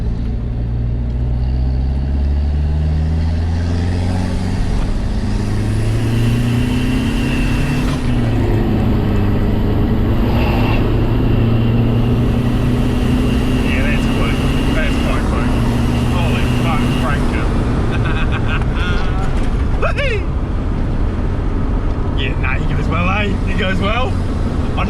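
A modified Mitsubishi Strada ute accelerates hard from a standstill toward 100, its diesel engine droning loud and steady, pitch rising through the gears, heard from inside the cab.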